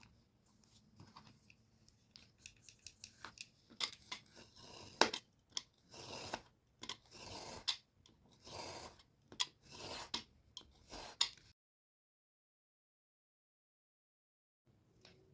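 A Refile Fácil Teeny trimmer slices through a book spine with a run of quick, crisp scraping strokes, close and fairly quiet, coming in uneven bursts before falling silent, then a brief sound at the very end.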